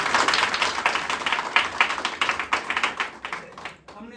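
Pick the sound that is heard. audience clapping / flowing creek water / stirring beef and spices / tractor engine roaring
audience clapping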